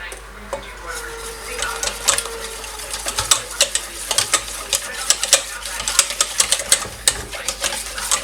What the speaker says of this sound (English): and we keep mixing more